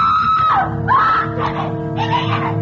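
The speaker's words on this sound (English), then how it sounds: "And suddenly she was screaming." A woman screams in several long, wavering shrieks with short breaks between them, loud and close over a low background hum.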